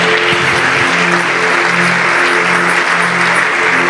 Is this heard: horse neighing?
no